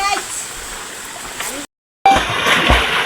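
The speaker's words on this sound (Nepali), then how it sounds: "खोला" River water rushes and splashes steadily at close range, briefly cut out, then returning louder with someone talking over it.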